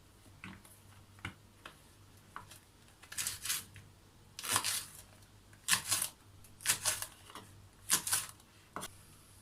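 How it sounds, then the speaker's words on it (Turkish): Sharp, irregular knife chops through peppers on a cutting board, some in quick bursts of two or three, fairly close and crisp with no talking. "Biberlerimi doğrayacağım."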